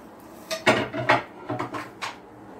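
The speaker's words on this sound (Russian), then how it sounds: "Перемешиваем." A spoon stirs Turkish yogurt soup with meatballs in a pot, giving a handful of distinct scraping clinks against the pot over about two seconds, fairly close and clear with no talking.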